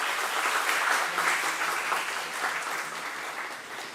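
An audience at an international linguistics and literature symposium applauds steadily as the Head of the English Department is invited to the stage, dense clapping filling the room and tapering slightly toward the end.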